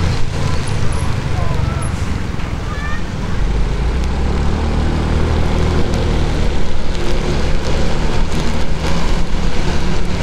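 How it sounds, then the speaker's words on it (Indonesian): Heavy rain pours during a night motorcycle ride between Tegal and Brebes. A loud, dense hiss of rain on surfaces and the rider is mixed with road and engine rumble, steady throughout. "Hujannya deras, handphonenya udah basah."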